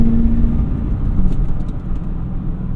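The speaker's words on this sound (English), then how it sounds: "We also have a muffler delete on here, which sounds pretty good. Very like rumbly." A manual C4 Corvette with a muffler delete idles with a steady, loud low rumble, its deep exhaust burble holding even throughout without any revving.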